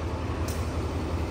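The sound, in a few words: train locomotive coupling to carriages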